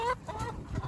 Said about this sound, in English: Chickens, trying to get through them like normal.